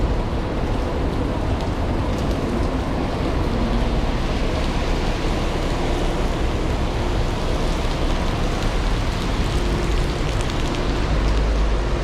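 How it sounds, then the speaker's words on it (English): Heavy rain pours down in Brisbane city, a dense, loud, unbroken roar of water hitting the surfaces all around. "It is bucketing down."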